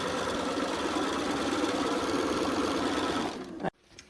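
A sewing machine stitches pieced quilt blocks for a Stars and Snowballs quilt, giving a steady, close, continuous whir for several seconds before it abruptly stops near the end.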